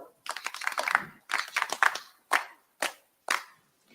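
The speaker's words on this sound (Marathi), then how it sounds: "आपण त्याचं टाळ्या वाजवून अभिनंदन करू" A few people at a school clap in a quick burst, then the claps thin out into three separate single claps before silence.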